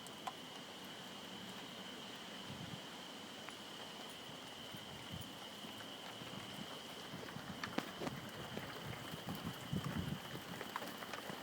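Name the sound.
rain starting during a storm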